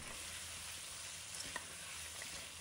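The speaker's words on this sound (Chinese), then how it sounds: "再把姜蒜放入锅中，把它炒香" Ginger and garlic stir-frying in a wok, a steady broad sizzle with faint scraping of a spatula, a few small ticks and pops near the end, no talking.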